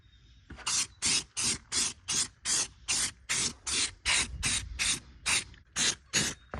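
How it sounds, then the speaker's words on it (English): Fourteen short bursts of hissing spray come from an aerosol can of bed liner in a steady rhythm, each lasting about a quarter second, close and fairly loud, sprayed onto a mower deck. "might as well spray this on here"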